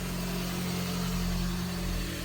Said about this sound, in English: And let's start this old cat-eye truck here.